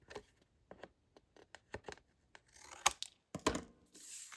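Scissors cut through chipboard while crafting a Halloween mini album: a series of short, sharp snips and crunches at an uneven pace, growing into longer, louder rasping cuts near the end, close and otherwise quiet.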